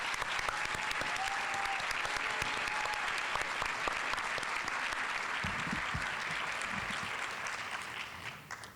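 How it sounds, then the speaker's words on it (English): Sustained applause from an audience honoring educators at an evening awards ceremony in a high school, dense and steady throughout before tapering off near the end. "Let's have one more round of applause for all of tonight's honorees."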